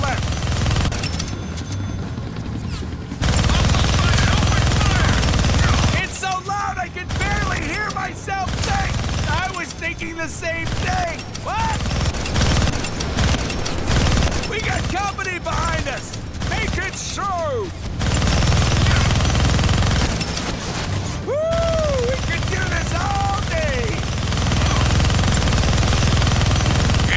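Sustained gunfire in the Deadpool video game, dense rapid automatic shooting that runs loud and continuous throughout, with excited voices talking over it.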